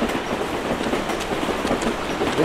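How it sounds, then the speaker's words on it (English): A train rolls by in Call of Duty Black Ops with a dense, continuous rattle of wheels on rails. It is close and steady for the whole stretch, with no talking. "A train going by."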